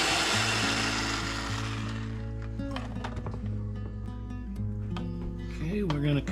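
An electric hand mixer whirs steadily through a bowl of homemade pimento cheese, a continuous motorized drone with pitch shifts as the load changes, close and loud, with a voice speaking over it.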